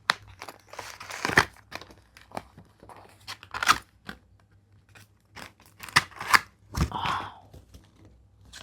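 Packaging for an all-in-one set of children's flash cards being torn and opened, with irregular crinkling rips and crunchy plastic bursts, close and fairly loud, separated by short pauses.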